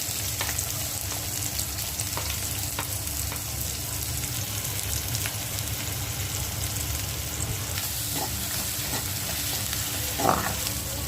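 Onion frying in oil in a pot for a Mandeli fish curry, a steady close sizzle with occasional stirring scrapes and a brief clatter near the end.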